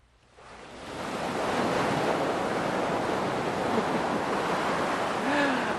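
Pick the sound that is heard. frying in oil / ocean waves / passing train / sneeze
ocean waves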